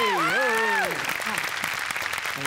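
A studio audience at a Marathi comedy show bursts into sustained applause, a dense clapping roar that continues to the end, with a voice speaking loudly over the first second.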